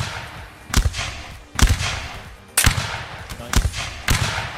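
A ripple volley of musket fire in Mount and Blade Warband's Napoleonic Wars mode, loud shots going off one after another at roughly one-second intervals across a battlefield, with some voices in the background.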